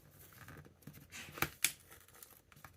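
A glued makeup palette being peeled apart, quiet crinkly tearing and scraping with two sharper cracking snaps close together midway, faint and close-up.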